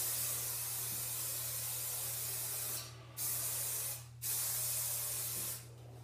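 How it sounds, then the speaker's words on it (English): Hairspray is sprayed from an aerosol can in long, continuous hissing bursts, close and fairly loud, with two short pauses between sprays over a faint steady hum and no talking. "Okay, we got the hairspray."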